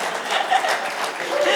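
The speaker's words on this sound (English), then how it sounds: "Clap." Audience clapping at a school alumni summit in a hotel, a dense steady patter of many hands sustained for the whole moment, with a faint chuckle mixed in.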